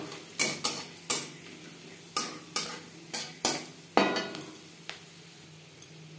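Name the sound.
cardamom, cloves and cinnamon frying in hot oil in a wok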